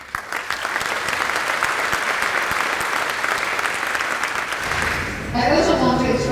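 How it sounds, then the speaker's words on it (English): A large dinner audience at a European Day event in Taiwan gives a sustained, loud round of applause lasting several seconds, then it tapers as a voice begins speaking. "deserves a big round of applause"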